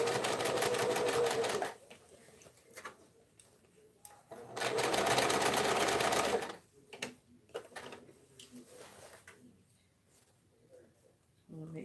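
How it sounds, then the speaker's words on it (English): A sewing machine stitches tote bag straps in two long, loud runs of rapid, even motor chatter, with quieter pauses between them filled by small clicks and handling sounds. "while I am sewing this, I do make sure that my straps are straight"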